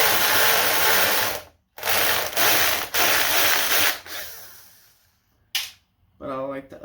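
Power driver unscrewing screws from an Xbox Series S console, several short loud bursts of a ratcheting, buzzing tool separated by silent gaps, close up, with brief faint clicks near the end.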